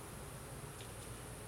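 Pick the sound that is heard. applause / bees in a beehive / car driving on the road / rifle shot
bees in a beehive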